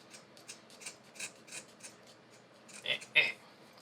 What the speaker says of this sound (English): So you can just get your scissors and hit it with the